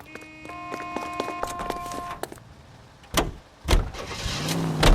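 A car in L.A. Noire starts off with engine rumble and mechanical clunks, followed by a few loud revving surges as it pulls away, with no talking.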